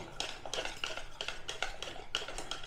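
Batter for a ripe palm fruit cake, made with semolina and a little milk, is beaten briskly with a spoon in a bowl, giving steady rhythmic scraping and clinking strokes, close and continuous with no talk.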